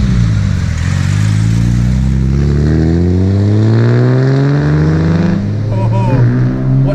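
Modified 1960 Aston Martin DB4 Series II engine revving up through rising, loud harmonic tones from nearby, climbing steadily then easing off near the end, with voices speaking over it.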